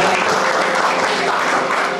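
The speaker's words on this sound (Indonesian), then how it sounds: "Sekali lagi kita beri tepuk tangan." A church audience at an Indonesian youth service claps in dense, sustained applause filling the room for a couple of seconds.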